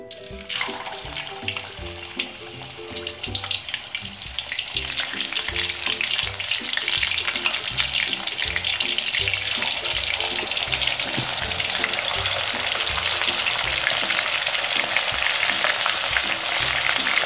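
Pre-boiled jackfruit pieces frying in oil that is not very hot: a quiet start, then a dense, steadily rising crackle of bubbling oil that holds loud and even through the rest, with faint clinks underneath.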